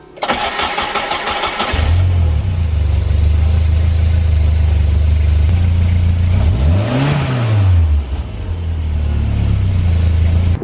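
A Volvo 340 engine, fitted with an adjustable fuel pressure regulator, cranks and catches, then idles loudly and steadily, with one brief rev that rises and falls in pitch before settling back to a steady idle.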